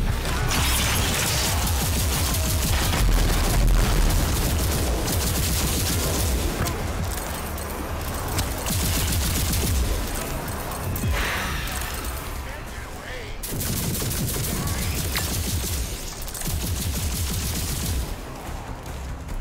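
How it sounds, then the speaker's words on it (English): Explosions and heavy gunfire from combat in the video game RAGE 2, with blasts and shots in rapid, dense bursts throughout and a voice talking over the chaos. "Many grenades."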